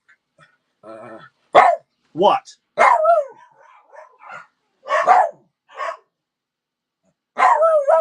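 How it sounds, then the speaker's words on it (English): A dog barks in short, sharp bursts, close by, with a person speaking briefly between the barks. "What are you barking about?"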